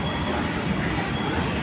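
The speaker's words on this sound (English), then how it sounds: "there is one another train which is 6 hours late, and it is coming right now" A late passenger train arrives at a station in Chhattisgarh, India, with a steady, loud rumble of wheels and cars rolling in that fills the moment without pause.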